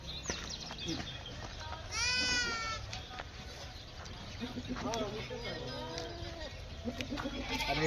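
Kathiawari goats bleat in several wavering, drawn-out calls, one loud near cry followed by more scattered bleats, while people talk over the farmyard sounds.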